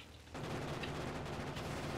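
Cannon turrets firing in a factory-building video game, a dense rumbling barrage that starts abruptly and continues as rapid overlapping blasts, fairly faint and steady, with no voices.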